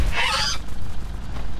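An eagle in the video game The Front attacks with a loud, brief honking cry near the start, followed by a low, rumbling game ambience.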